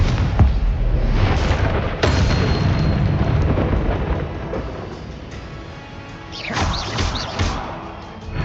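Confringo fire-spell explosions in the Hogwarts Legacy video game: several heavy booming blasts with rumbling tails, loud and close, one near the start, one around two seconds in and a brighter burst toward the end.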